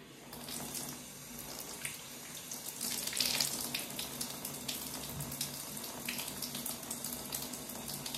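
Water from a tap runs steadily and fairly close while hair is being rinsed, a continuous splashing hiss that swells slightly in the middle, with no talking over it.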